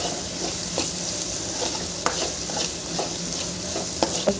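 Vegetables and ginger paste for veg fried rice fry in a pan, a steady sizzle under repeated scraping stirs with a spatula, close and fairly loud, no talking.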